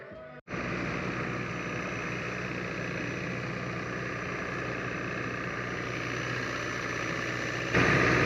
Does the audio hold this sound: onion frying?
no